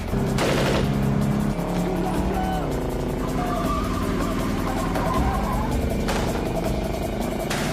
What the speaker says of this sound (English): they start machine gunning the car